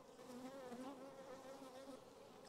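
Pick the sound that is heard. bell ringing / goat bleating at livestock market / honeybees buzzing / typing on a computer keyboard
honeybees buzzing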